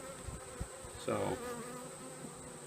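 Honeybees in a top bar hive buzz softly and continuously close by, a low droning hum with one louder swell, while a voice says a word.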